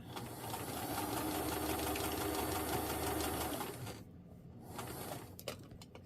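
A sewing machine whirs steadily for several seconds stitching along a basting line, then halts, followed by quieter handling and clicks nearby, with no talk.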